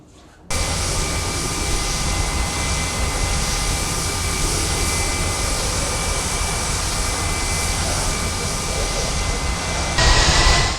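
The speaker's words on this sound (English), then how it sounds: "its engine has been improved again with the GEF-118 turbofan" Steady roar of a U-2 Dragon Lady's General Electric F118 turbofan jet engine in the ARMA 3 video game, a loud constant drone that starts abruptly and swells slightly toward the end.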